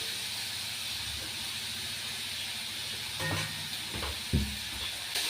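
Tomato, onion, garlic and curry leaves fry in a pan, giving a steady, close, loud hiss of sizzling with a few soft knocks of stirring near the end.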